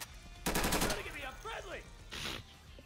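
A short burst of gunfire in the military shooter Insurgency hits early, followed by scattered shots and battlefield noise, with a voice talking over part of the exchange.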